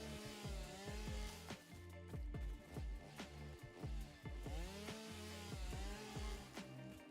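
A chainsaw in the video game Satisfactory cutting through foliage, a steady close buzzing engine with repeated rising and falling revs as it bites in and eases off.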